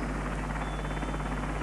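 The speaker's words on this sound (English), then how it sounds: "This was a real test for an RAF helicopter. It's a Wessex, and if you're technically minded, you'll see it was a twin-turbine Wessex." An RAF twin-turbine Wessex helicopter flies in 1969 while lifting a 60-foot fiberglass spire, its rotor and turbine drone loud and steady throughout.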